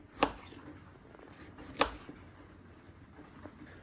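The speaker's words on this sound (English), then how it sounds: "we're gonna chop up our green jackfruit" Green jackfruit is chopped with a knife: two sharp, distinct blows about a second and a half apart, followed by a fainter cut near the end, against a quiet background.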